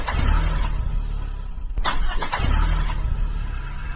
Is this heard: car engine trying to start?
yes